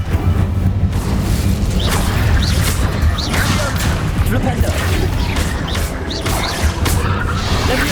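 Incendio fire spell cast in a Hogwarts video game, loud whooshing flame bursts and crashing impacts layered over a constant rumbling battle din.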